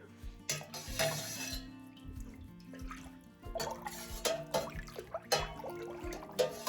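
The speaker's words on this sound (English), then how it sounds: "And you want to give this a good stir." A spoon scrapes and clinks around a pot of raw milk being stirred for mozzarella, with soft liquid sloshing and irregular metallic taps, fairly quiet and without talk.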